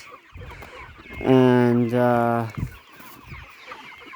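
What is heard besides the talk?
chickens clucking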